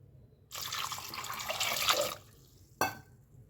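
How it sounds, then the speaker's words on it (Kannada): Water gushes from a tap into a cooking pot for Mandya-style uppu saaru, a steady splashing pour of about one and a half seconds, then a short second burst after a pause, close and without talk. "ಈಗ ಇದಕ್ಕೆ ನೀರು ಹಾಕ್ಬಿಟ್ಟು ಕೂಗಿಸ್ಬಿಡೋಣ."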